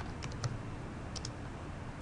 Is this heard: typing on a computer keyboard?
yes